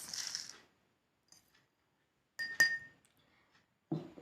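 A spoon clinks against a drinking glass as salt is stirred into hot water, giving a few quiet, scattered taps and one bright ring between short rustles.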